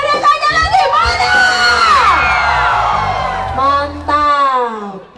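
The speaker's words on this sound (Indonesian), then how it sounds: "Semua teriakannya lagi mana?" A festival crowd at Lake Poso in Tentena roars with loud, sustained cheering, whoops and shouts close by, rising to a peak before a second burst of yelling.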